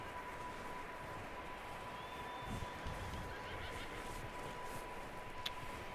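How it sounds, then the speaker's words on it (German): A startled horse whinnies faintly in a snowy scene of Red Dead Redemption 2, a brief distant neigh over a constant hiss of ambient wind and background noise. "Da ist auf jeden Fall ein aufgeschrecktes Pferd drin."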